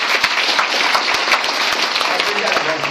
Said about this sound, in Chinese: 那我们再一次的掌声哈